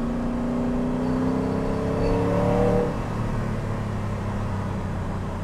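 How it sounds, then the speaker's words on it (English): Audi V8 engine of an aluminium-bodied Spyker C8 supercar revving, heard from inside the cabin with a window down, a steady engine drone that swells briefly around the middle before settling back to a constant hum. "Just hear that Audi V8."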